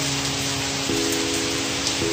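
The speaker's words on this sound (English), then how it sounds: "Oh my goodness, look at this hail." Hail falling steadily outdoors, a dense broadband patter close by with continuous hiss and no voices.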